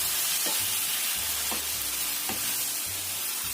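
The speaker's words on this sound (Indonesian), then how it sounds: "Kita tumis sampai keluar airnya gitu ya." Tomatoes sautéing in a hot pan, a steady sizzle and frying hiss with a few scraping stirs of the spatula at intervals, close and continuous with no talk.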